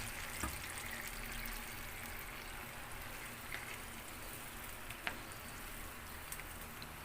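Sprite soda is poured into a pan of adobong pusit, squid adobo, making a steady hissing, bubbling wash of liquid with a few faint clinks, continuous and fairly quiet, no talking.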